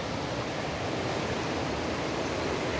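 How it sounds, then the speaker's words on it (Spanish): Water of the Turia river flows past stone walls with a steady, even hiss of running current, moderately soft and continuous with no voices or other sounds over it. "Escuchan el sonido del agua, fuente de vida."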